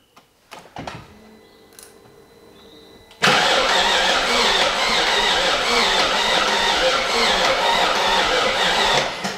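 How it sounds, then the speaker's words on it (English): A BMW E38 with a swapped 4.6 engine is cranked with the fuel pump fuse out to build oil pressure. A few quiet clicks come first, then the starter whirs loudly and steadily for several seconds without the engine firing. "I'm gonna pump the oil, crank it to pump the oil up"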